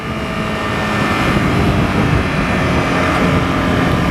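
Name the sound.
beginner motorcycle throttle twisted wide open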